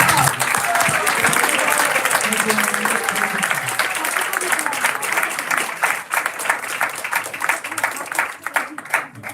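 Dense applause fills the hall at an ISKCON anniversary celebration after a play, many hands clapping loudly and continuously before thinning slightly toward the end, with some voices mixed in.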